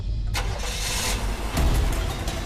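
A car engine starts and pulls away, a sudden mechanical burst followed by a steady mid-pitched running tone and a rise in revs toward the end, with no voices over it.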